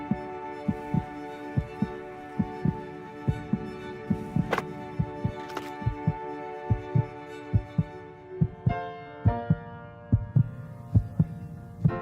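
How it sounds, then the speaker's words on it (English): Children's heartbeats built into a song: steady, deep, thumping pulses repeat at a regular pace for the whole stretch, set under sustained musical tones and a soft hum. "This song was created with heartbeats of children in need."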